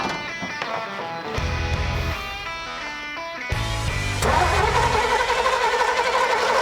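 A 1982 GMC C10 pickup engine, an abandoned barn find, cranks and catches on a propane feed, then settles into a steady, close, loud idle with a slight rise near the end.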